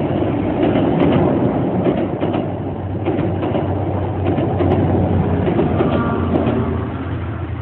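An MBTA passenger train passing on its way to Boston fills the air with a steady, loud rumble and rattle that holds for several seconds, with faint bird calls mixed in.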